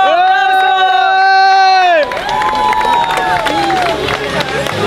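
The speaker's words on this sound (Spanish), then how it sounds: "¡Aplauso! ¡Aplauso!" Crowd cheering and clapping at a marriage proposal in front of the Disneyland castle, a loud burst of mixed voices and applause that follows a sustained tonal sound.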